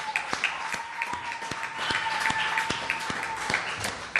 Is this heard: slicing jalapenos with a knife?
no